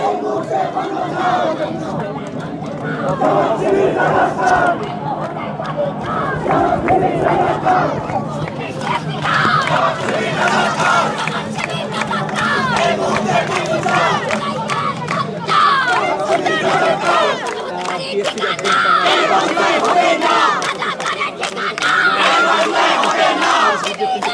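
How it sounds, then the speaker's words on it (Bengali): Students at a protest at TSC in Dhaka chant slogans in a loud, sustained crowd roar that keeps going for the whole stretch, with overlapping voices and rhythmic shouting. "বাম সংগঠনের যারা শিক্ষার্থীরা রয়েছেন তারা স্লোগান দিচ্ছে"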